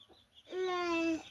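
A chicken lets out a single drawn-out call, fairly faint, preceded by soft scattered background sounds.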